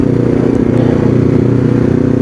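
A Kawasaki Ninja 250 Fi motorcycle runs with a steady, loud engine drone and wind rumble close to the rider, holding an even pitch throughout.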